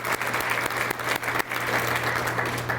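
An audience applauds steadily at the Lake Sunapee Region Chamber annual meeting and awards, a dense, even wash of many hands clapping with no gaps.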